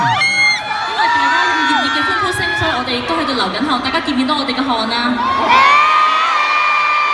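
Concert crowd at a live tour show in Hong Kong cheering and screaming loudly and continuously, with high-pitched shrieks and whoops rising and falling and a fresh surge near the end.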